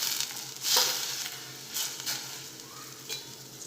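Wheat sev cooks in a pan on a low gas flame for a sweet dish, a faint steady sizzle broken by a few soft stirring scrapes and rustles spaced a second or so apart.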